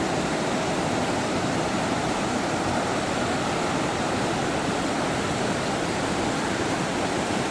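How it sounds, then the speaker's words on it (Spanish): Steady, broadband rushing of the Dora or Santa Ana waterfall between Chile and Argentina, loud and continuous with no pauses, like a dense hiss of falling water close by. "Ya se escucha, miren, escuchen. ¡Ah! Escuchen. Se escucha la agüita."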